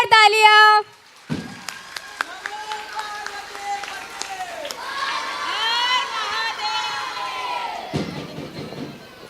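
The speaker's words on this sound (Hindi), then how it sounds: "जोरदार तालियां" Audience applause and cheering at a school annual function after a children's bhajan recital, breaking out after a short sung line and running for several seconds as a broad wash of clapping with voices and shouts mixed in.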